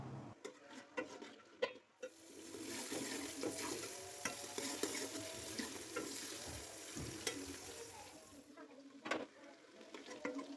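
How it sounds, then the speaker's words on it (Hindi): Onions fry until brown in a pan for Punjabi kadhi pakora, with a constant hissing sizzle up close and frequent clinks and scrapes of a spoon stirring against the pot. "अब इसके अंदर हमने प्याज डाल दिए, इनको हमने ब्राउन होने देना है।"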